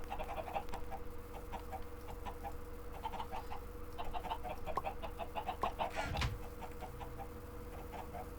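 Minecraft chickens cluck repeatedly in short, rhythmic bursts over a steady low hum, with a brief sharp thump partway through.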